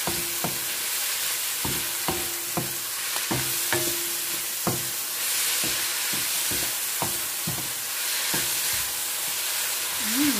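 Tomatoes go into a pan of sizzling tinola chicken soup base, with a steady loud hiss broken by repeated sharp scraping stirs of a utensil against the pot.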